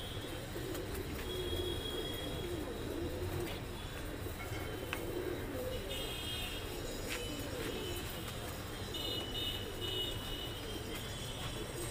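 Deobandi pigeons in a loft give soft, low cooing calls that recur faintly over a steady background rumble.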